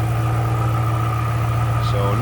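Supercharged engine of a 2006 Ford Mustang Saleen S281 coupe, rated 435 horsepower, running at a steady idle with a constant low drone, close and continuous, with faint background sounds near the end.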